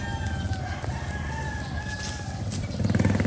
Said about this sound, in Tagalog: Ang iingay ng mga manok.